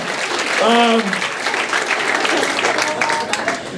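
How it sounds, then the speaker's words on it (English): A comedy club audience at Acme Comedy Co. applauds in a steady, dense wash of clapping that fills the room, with a performer's voice briefly audible over it. "Clap for him"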